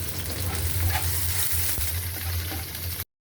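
Onion sizzles and fries steadily in hot oil with chopped garlic while tempering a lentil dal, with a close, continuous crackle and no talking, ending in a brief cut to silence.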